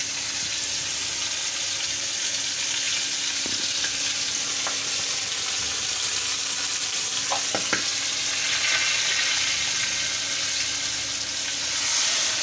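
A paste of nuts, mustard and green chilli frying in a pan, with a loud, continuous hissing sizzle throughout and a few brief scraping stirs.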